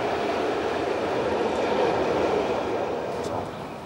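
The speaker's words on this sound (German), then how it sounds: "Zuglok ist der Piccolo, der Kleine, eine Rangierlokomotive von 1912." A vintage 1912 shunting locomotive hauls the last two surviving old Säntis railway cars near Appenzell, making a steady rolling rumble of wheels on track, close and continuous, with a faint squeal near the end.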